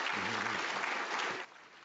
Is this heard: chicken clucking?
no